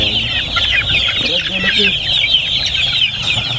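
Chickens clucking close by in a steady stream of short calls, with faint background voices and farmyard noise.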